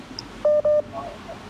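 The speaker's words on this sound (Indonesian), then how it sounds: "Ada telepon masuk lagi sih." Two short, steady electronic tones from a telephone, a mobile alert for an incoming call, sound one after another at moderate loudness over faint room noise.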